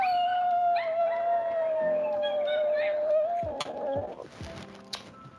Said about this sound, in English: he has a famous howl that he does